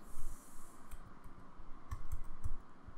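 Computer keyboard keys tapped in a short sparse burst of clicks, close and fairly quiet against a faint room hum.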